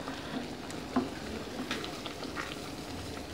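Noodle and tempeh filling for arem-arem cooks in a pan until its liquid reduces, giving a soft, steady sizzle and bubbling with occasional light stirring scrapes, quiet and close.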